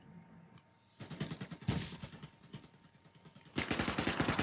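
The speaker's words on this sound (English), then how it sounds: "Alright, let's shoot. Wanna start shooting?" Bursts of rapid automatic gunfire rattle through a CRSED match, close and loud, in dense clattering volleys with a brief lull before the heaviest burst at the end; no voices.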